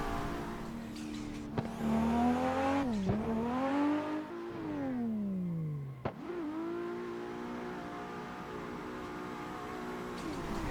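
A car spinning through a 360 with the clutch in: the engine revs up and sweeps in pitch, then drops and falls off before picking back up to a steady hum, heard close and with no talk.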